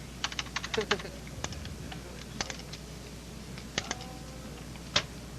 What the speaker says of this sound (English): He's clicking. He thinks the computer's frozen.